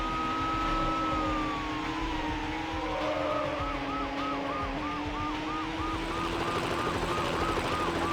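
A police helicopter takes off in the racing game Need for Speed: Hot Pursuit 2, its dense droning rumble running throughout beneath loud, warbling police sirens and car engine noise.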